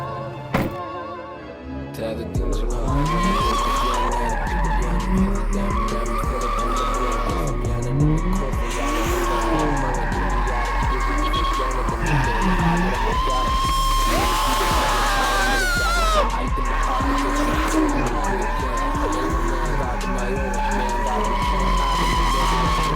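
A car drifting at a racing event, tires squealing and skidding in long wavering arcs over a loud, revving engine, continuous and close, with occasional thunks.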